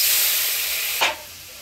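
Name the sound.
water added to frying spices for mustard pabda fish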